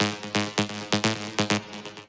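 Arpeggiated synth in a dance track, played dry without a moving filter: a steady run of bright, evenly spaced plucky notes cycling in a tight repeating pattern, loud and alone.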